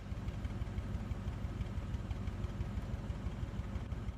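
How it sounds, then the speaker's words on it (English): A car engine idles close by with an uneven, shaky rumble and irregular pulsing, running continuously without voices. "This is engine running rough."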